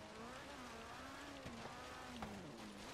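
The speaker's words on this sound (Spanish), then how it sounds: "Encima llueve, qué interesante." Rain patters steadily during a classic rally race in Forza Horizon 3, a soft hiss running beneath a droning car engine.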